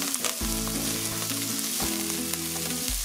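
Vegetables sizzling and frying in a hot wok for cauliflower fried rice, with celery among them: a loud continuous crackling hiss with stirring scrapes, close up and without talk.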